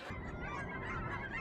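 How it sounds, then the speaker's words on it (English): Geese honking in a park, a busy flock calling over and over in overlapping, raspy honks at moderate distance, continuous and steady with no talking. "There's just geese all the time."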